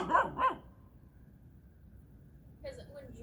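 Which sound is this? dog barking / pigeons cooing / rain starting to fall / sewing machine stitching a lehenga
dog barking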